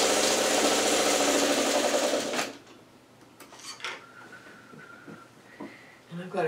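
Domestic sewing machine stitching a quarter-inch seam on a Churn Dash quilt block, a steady mechanical whir running loud for about two seconds and then stopping, leaving quiet handling noises.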